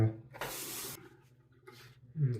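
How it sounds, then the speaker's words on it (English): Water from a faucet rinses a Clix razor during a wet shave, a short hissing burst up close that settles into a softer trickle. "Go ahead and rinse the razor now."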